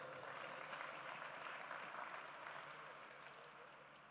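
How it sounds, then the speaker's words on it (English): Graduates and guests at a University of Michigan commencement ceremony break into a dense, steady round of applause that sounds somewhat distant and tapers off slightly toward the end. "you can give yourself a round of applause"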